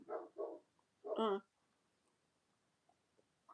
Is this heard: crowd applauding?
no